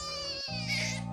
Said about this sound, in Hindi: जूही बेहोशी में जमीन पर पड़ी है और बच्चा रो रहा था।